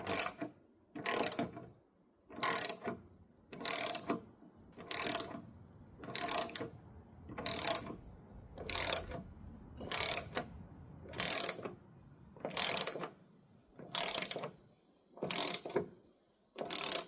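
Bolts on the tailgate hinges of a Jeep Wrangler TJ being worked tight and loose with a ratchet, giving about thirteen evenly spaced bursts of sharp, close clicking, each roughly a second long, with short pauses between.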